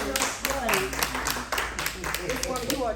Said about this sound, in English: I want y'all to clap for Ms. Creighton because I'm so serious